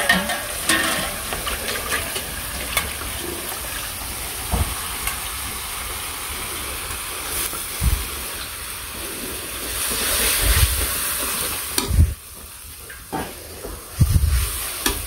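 Masala, a dry red chilli and a bay leaf stir-frying in a pan in a village kitchen: steady close sizzling with scraping stirs and occasional clatters, no talk.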